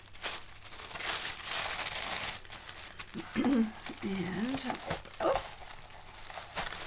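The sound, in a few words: opening a Paper Pumpkin kit, crinkling pink tissue paper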